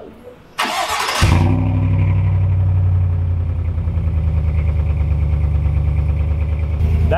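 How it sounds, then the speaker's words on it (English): A 2020 Chevrolet Silverado engine cranks and fires up with a burst, then settles into a deep, rumbling idle through the factory exhaust, loud and close. "That is a very good sound coming out of a factory exhaust system."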